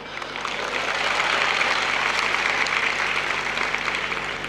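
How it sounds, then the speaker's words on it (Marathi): Steady, dense applause from a theatre audience, loud and sustained throughout with no voices above it. "आत्ता जशा तुम्ही टाळ्या वाजवल्यात ना"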